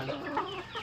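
Rhode Island Red hens and roosters on a small farm give a brief burst of close, soft clucking.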